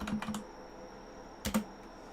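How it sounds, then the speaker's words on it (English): Keys clatter on a computer keyboard during a Roblox Studio session: a quick cluster of light taps, a pause, then another short pair of keystrokes, faint and close with no talking. "Let's try typing in physics."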